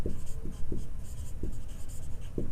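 A pen scratches out a handwritten class six math solution in short strokes and taps, with faint room noise underneath.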